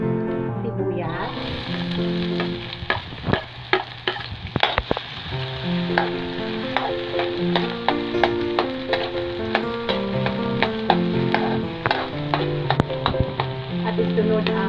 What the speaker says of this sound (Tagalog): at igisa muna ang sibuyas